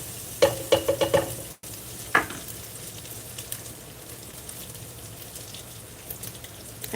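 Sausage for Zuppa Toscana sizzles in a pan, a soft continuous crackle beneath a short burst of rhythmic tapping clicks early on, then a single sharp clink before the frying settles into an even hiss.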